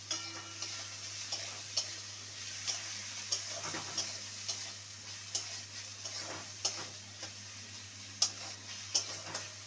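Chopped carrots fry in a pan while being stirred, a quiet steady sizzle under soft rhythmic scraping and ticking taps of the spatula against the pan.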